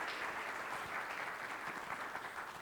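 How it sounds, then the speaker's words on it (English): Audience applause for a keynote speaker at a business conference, dense steady clapping from a crowd, even and sustained, heard somewhat distant and soft. "Let's give a big round of applause to Ahmed as our keynote speaker."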